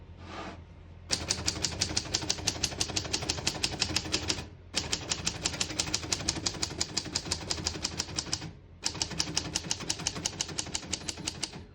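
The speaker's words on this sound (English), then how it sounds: "Once you hear the bell, you're at the end of the margin." A 1935 Corona Standard portable manual typewriter clacks in fast, steady bursts of keystrokes, broken by two short pauses, with the carriage and margin bell sounding between runs.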